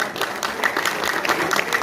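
A crowd gathered at a public speech claps in a brief burst of applause, a close, fairly loud patter of hands with individual claps standing out, lasting under two seconds.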